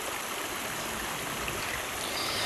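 Water flowing steadily through a widened, deepened stream channel in the rural countryside, forming a continuous close rushing hiss with no voices over it.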